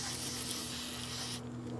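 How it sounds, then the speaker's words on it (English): A continuous close aerosol lubricant spray hisses steadily onto a Lexus LS430 hood latch for over a second, then cuts off, leaving a faint low hum. "Did I spray it in the wrong spot?"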